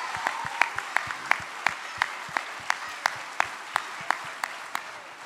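Rhythmic unison clapping from a rally crowd at a PTB (Workers' Party of Belgium) campaign launch, about fifteen sharp, evenly spaced claps in steady tempo, with a dense wash of applause and crowd noise between them.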